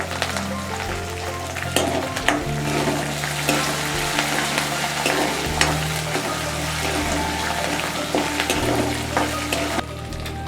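Green chilies, urad dal and mustard seeds frying in hot oil in a pan, a steady close sizzle with intermittent scraping stirs throughout, no talking.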